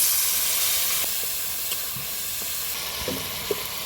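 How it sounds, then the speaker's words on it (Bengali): Ground coriander and cumin powder with chilli powder fry in a pan with a splash of water, giving a continuous close steam-laden sizzle and hiss with a few faint stirring knocks. "অল্প একটু জল দিয়ে মশলাগুলো কষিয়ে নেব"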